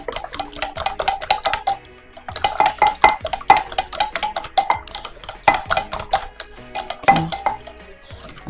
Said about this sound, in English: I'm just gonna whisk that together.